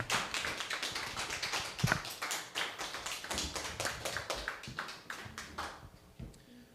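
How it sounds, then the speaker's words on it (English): A small talk-show audience claps enthusiastically, with distinct individual claps close to the microphone forming an uneven patter that thins out and fades near the end. "A round of applause for Eamon and George"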